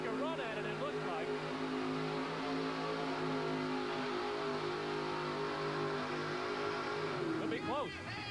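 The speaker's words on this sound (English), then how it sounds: "when he nailed the throttle, it picked the front end of the truck up" A monster truck engine roars at full throttle during a 1987 USHRA event in Phoenix, a loud, sustained rumbling drone held steady for several seconds, with a commentator speaking over it toward the end.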